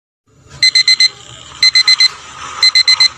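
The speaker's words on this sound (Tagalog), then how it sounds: "kanina pa tumutunog yung alarm clock mo" Alarm clock ringing in three bursts of four rapid, high, piercing beeps each, loud and close in a quiet room.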